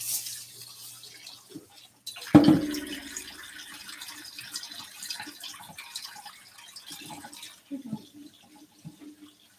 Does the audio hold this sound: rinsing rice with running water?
yes